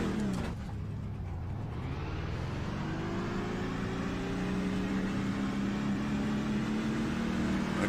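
A racing truck engine at full throttle in iRacing on a 2022 superspeedway, a loud sustained drone whose pitch climbs steadily as it accelerates, with no talk over it.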